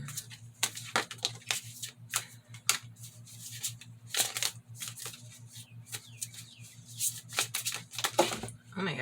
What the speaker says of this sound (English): this is too many cards, but I'm going to keep shuffling